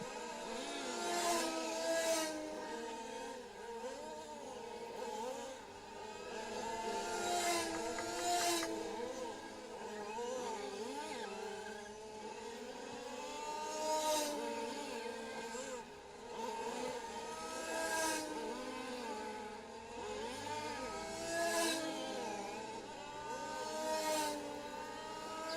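RC touring cars race around a track at the EFRA LSTC Euros finals, their electric motors whining and whirring in repeated rising and falling sweeps as they pass, fairly distant and continuous, with faint commentary.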